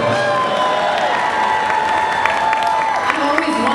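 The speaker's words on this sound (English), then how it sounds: "Hold for applause. Hold for applause." An audience at a Comic Con panel claps and cheers, a dense, sustained wash of applause with scattered whoops, filling the hall throughout.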